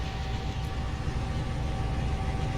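Steady engine rumble of an old BNSF locomotive on Cajon Pass in the Train Simulator 2020 game, a constant dense drone with no breaks and no speech.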